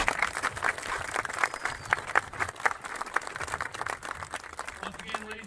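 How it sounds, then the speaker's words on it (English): Audience applause after a living-history presentation at Castillo de San Marcos in St. Augustine, Florida: a steady wash of many hands clapping at moderate distance, continuous through the clip, with faint voices beneath. "Please join me in a round of applause."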